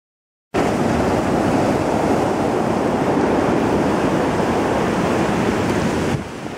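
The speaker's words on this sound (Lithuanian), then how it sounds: "bangos sustiprėjo" Strong ocean waves break on the rocky Madeira coast in a continuous roaring surf with heavy wind noise, loud and close, then the roar eases slightly at the very end.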